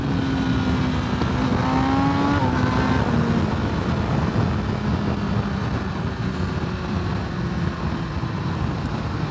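A 2021 Kawasaki ZX-10R motorcycle accelerates with loud, sustained engine drone and wind roar from the rider's position. The engine pitch climbs, then briefly dips and climbs again as it upshifts through the quick shifter.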